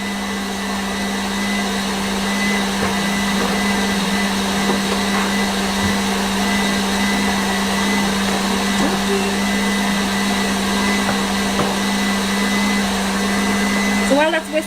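A stand mixer whisks meringue for a cake, a steady, loud motor whir with a constant hum running unbroken throughout, with faint kitchen clatter layered over it.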